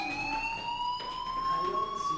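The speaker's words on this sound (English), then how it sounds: "Hey, do you hear that fire alarm?" A fire alarm sounds in the video game Life Is Strange, a steady electronic tone with a high harmonic that holds evenly throughout.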